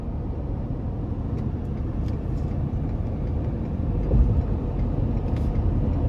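Low rumble of a 2022 Ford F-350 Limited dually with the 6.7-litre turbo diesel, heard from inside the cab as it pulls steadily under acceleration, a broad droning roar that swells slightly toward the end.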